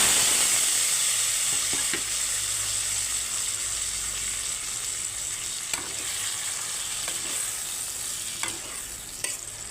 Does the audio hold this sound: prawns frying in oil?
yes